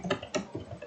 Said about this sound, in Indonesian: kita ketik aja